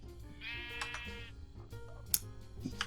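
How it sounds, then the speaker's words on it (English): Sheep bleat in Minecraft on a vanilla Bedrock survival server, a couple of wavering bleats over a busy bed of background game music and farm noise, with small clicks and ticks scattered through. "So when the sheep eat the grass, it activates the dispensers and shears the sheep."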